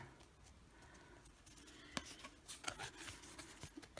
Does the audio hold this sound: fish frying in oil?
no